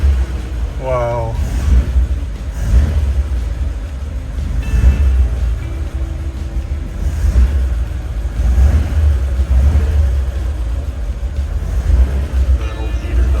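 A 1941 Ford truck engine running just after starting, a loud, rough idle with uneven rumbling pulses, while someone talks over it.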